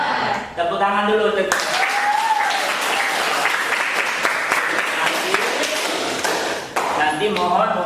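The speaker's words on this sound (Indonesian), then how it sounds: "Tepuk tangan dulu." Applause in a classroom, a bright, busy burst of clapping lasting several seconds, with voices talking just before and after it.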